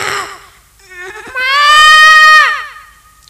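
A performer at a school arts festival mimicry act voices a goat's bleat: a single wavering, nasal cry that rises and trembles, loud and close, with no other sounds around it.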